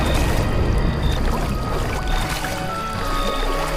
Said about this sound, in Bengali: নদীর জলে ঝপঝপ শব্দ তুলে চাচা নৌকা নিয়ে এগিয়ে যেতে লাগলেন